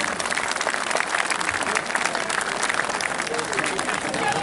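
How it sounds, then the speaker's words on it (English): Crowd at a street march in Birmingham claps loudly and continuously, a dense outdoor applause with scattered shouts and voices mixed in throughout. "give all yourselves a big clap on the back"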